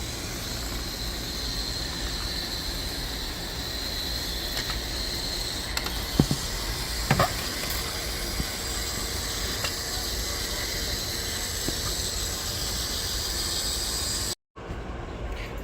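A motorized Tamiya M3 Stuart 1/35-scale model tank, heavily customized, crawls over an obstacle with a steady whirring gear drone and occasional small creaks and clicks. The sound stays continuous and close, with a brief dropout near the end.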